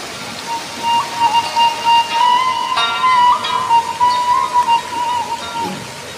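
Cinyawan waterfall at a tourist spot in Cilawu, Garut, a steady broadband rush of falling water filling the whole clip, with a faint whistle-like tone running over it.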